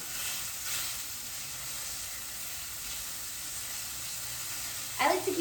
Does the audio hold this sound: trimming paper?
no